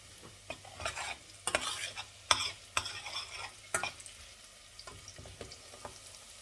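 Food frying in hot oil, with a steady low sizzle broken by sharp, irregular scrapes and knocks of a utensil stirring the pan, close up and without speech.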